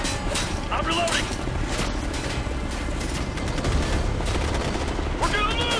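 Heavy gunfire in the tactical shooter game Ghost Recon Future Soldier, with dense rattling bursts and sharp shots filling the whole stretch, loud and continuous, while voices shout over the battle.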